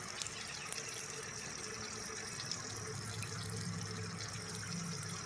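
Old coolant draining out of a copper radiator, a steady broadband trickle and splash of liquid running continuously and fairly close, with no talking.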